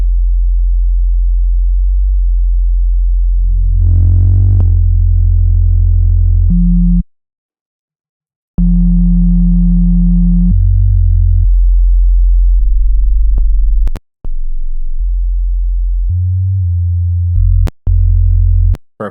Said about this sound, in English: I'm going to grab another sine wave,